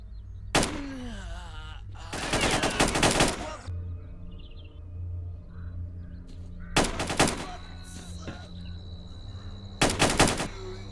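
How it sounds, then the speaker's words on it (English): Gunfire in the video game STALKER 2 comes as several loud, dense automatic bursts, each about a second long and separated by quieter gaps, with no voices. "So we're going to pop some shots."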